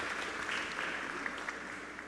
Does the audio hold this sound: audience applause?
yes